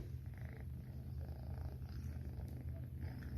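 Cat purring close up, a steady low rumble that swells and fades in a slow breathing rhythm with no voices.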